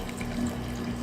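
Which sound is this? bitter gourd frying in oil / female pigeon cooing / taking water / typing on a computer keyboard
taking water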